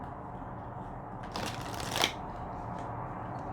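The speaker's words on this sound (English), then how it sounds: "So we'll shuffle and see what comes out." A Keepers of Light oracle card deck is shuffled close up in one quick riffling burst lasting under a second, with a sharp flutter at its end, surrounded by quiet room tone.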